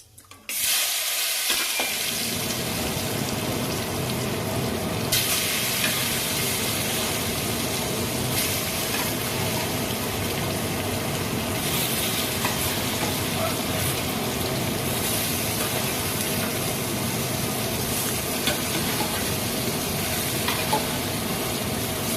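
Boiled taro tossed into a pan of hot oil, with a loud continuous sizzle and frying hiss plus scraping stirring strokes running on without a break after a brief quiet start.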